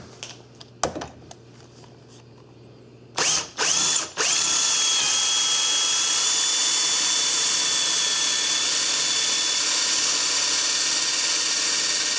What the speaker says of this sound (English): Now I'm going to take a 1/4 inch drill bit and I'm going to drill that through.